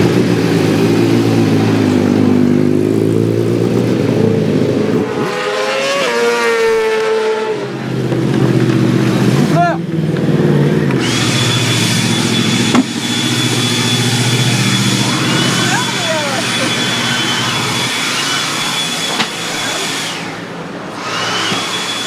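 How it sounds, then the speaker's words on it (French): A racing motorcycle on a circuit revs loudly up close, its pitch sweeping up and down through gear changes, then settling into a sustained high whining drone with brief dips. "il va faire tourner la moto"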